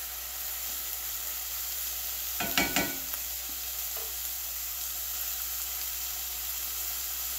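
Onions frying in a pan for a lasagna sauce give a faint, steady sizzling hiss throughout, with one brief clatter of utensil against pan near the middle.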